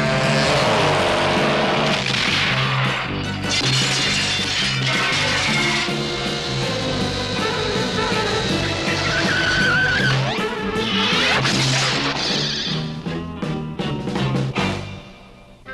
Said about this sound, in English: Six motors make this baby six times faster than the average dragster.